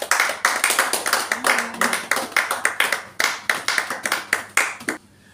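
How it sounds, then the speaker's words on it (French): A church congregation claps for the Lord in a loud, close, rhythmic clapping of hands, quick steady beats in unison running several seconds before stopping abruptly. "Acclamons pour le Seigneur."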